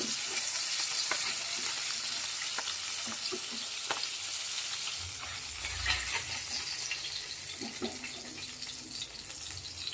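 Hilsa fish frying lightly in a small amount of oil, giving a steady, soft sizzle with faint scattered crackles and occasional clinks throughout, with no talking.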